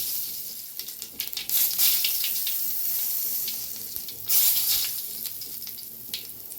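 Black cumin seeds dropped into hot oil for a potato and khalse fish curry give a close, bright sizzling hiss that swells in two strong surges and then settles back to a steady crackle, with no talk.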